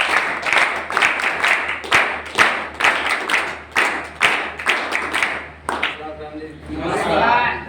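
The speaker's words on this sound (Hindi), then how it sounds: "जोरदार तालियों से स्वागत करेंगे।" Audience clapping to welcome a speaker at a de-addiction rehabilitation centre: a run of sharp, fairly close hand claps in an uneven rhythm that fades out, followed by a brief stretch of talk.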